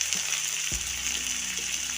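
Chopped tomatoes with Kashmiri red chilli powder, salt and a splash of water simmer in a pan for a restaurant-style paneer do pyaza, giving a steady close sizzle with one sharp clack of a spoon or lid partway through.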